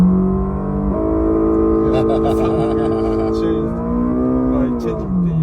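A simulated Honda VTEC engine sound plays through the speakers of an electric car. Its synthetic tone climbs gradually in pitch as the revs rise, with a clear step partway through and a voice talking over it.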